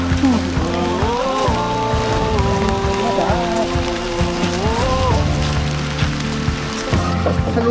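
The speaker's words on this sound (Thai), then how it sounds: "ฝนตกไล่แล้วเนี่ย" Rain falls steadily at a campsite in Doi Chong National Park, Thailand, as a dense, even hiss throughout, overlaid with wavering tonal sounds.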